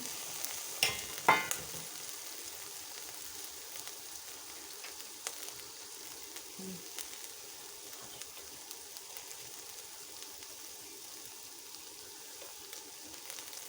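Peas frying in a pan for an egg dish give off a soft, steady sizzle with a few sharper crackles and stirring scrapes near the start, then settle into a faint, continuous hiss.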